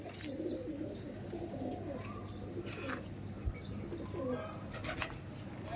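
Andhra pigeons coo softly at a loft in Sodpur, with low repeated coos, a brief wing flap and faint chirps in a moderately quiet setting.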